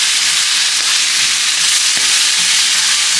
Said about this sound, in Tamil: இப்போ இந்த தக்காளி பியூரையும் உப்பையும் நல்லா மிக்ஸ் பண்ணி விட்டுடலாம்.